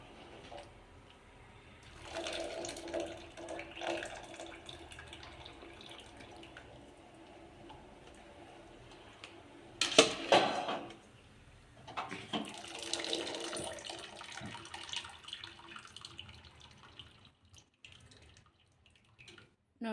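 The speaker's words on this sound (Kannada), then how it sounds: "ನೀರು ತೆಗೆದು ಹಾಕೊಂಬಿಡ್ರಿ" Water drained off sliced potatoes in a jar while making potato chips, pouring and splashing in two bursts of a few seconds each, close and moderately loud, with quieter trickling between.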